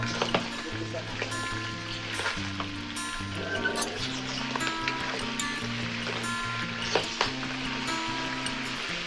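Pork steak fries in a pan, a steady close sizzle with occasional stirring scrapes, while a steady musical tone plays underneath throughout.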